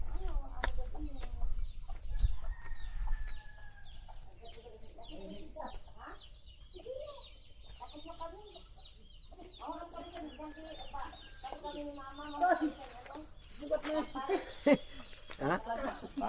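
A chicken clucks in short, scattered bursts at moderate distance in a rural village in Masbate, alongside occasional thumps and background noise, with little else filling the pauses.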